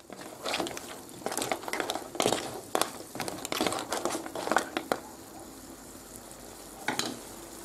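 Pepper and parsley stirred into spaghetti with prawns in a pan, giving a run of scraping, crackling stirs over a soft sizzle, with a quieter pause before a last stir.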